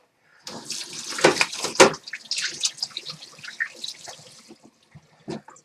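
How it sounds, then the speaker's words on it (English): Hands are washed under a running kitchen tap, with close splashing and rubbing in the water stream for several seconds, then a few drips and a short final splash, with no talking. "Let me wash my hands off here."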